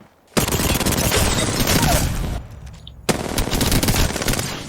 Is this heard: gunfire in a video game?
yes